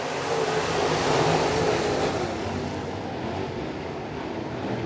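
Crate race cars roll off for a heat race at the East Bay WinterNationals on a dirt track, producing a dense, steady engine roar that swells slightly and then holds level, loud and continuous, with no talk over it.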